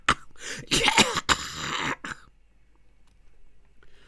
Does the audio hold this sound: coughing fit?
yes